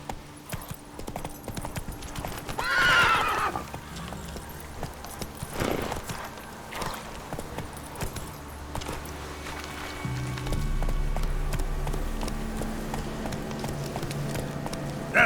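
Roach, a horse in The Witcher 3, trots with steady clip-clop hooves and gives a brief neigh, then gallops on, hoofbeats close and rhythmic over ambient game sound.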